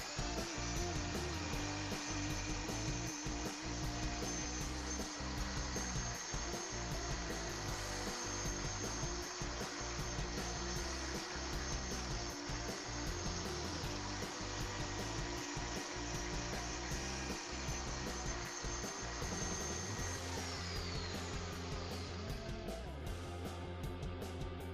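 A drill spins a sanding pad against a resin bowl, giving a continuous whirring grind with rhythmic dips as the pad is pressed and lifted, steady and close with no talking.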